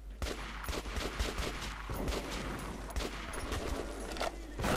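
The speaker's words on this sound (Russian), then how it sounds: "Это у меня уже стреляют." Sustained automatic gunfire in the video game Metro 2033 Redux, rapid overlapping shots and bursts throughout over a low steady game rumble, fairly loud and continuous.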